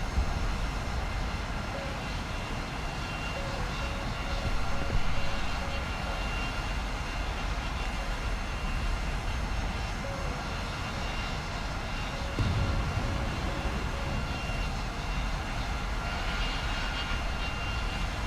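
A plane's engine drones steadily in War Thunder air arcade, a constant rumbling roar with a faint tonal hum through the whole stretch; no talking.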